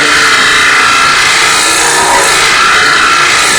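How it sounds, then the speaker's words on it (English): A woodturning tool shear scraping a thin-walled wooden hat on a lathe makes a steady, continuous hiss of cutting and rubbing, close and loud with no pauses, and nobody talks over it. "I could shear scrape that a little thinner."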